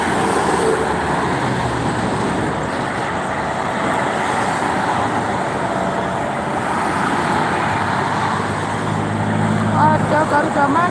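Buses and dense traffic on the Jakarta-Cikampek toll road on a Sunday afternoon, a loud continuous roadway roar of passing engines and tires, with speech present.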